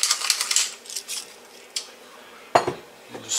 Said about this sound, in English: Just stir that in.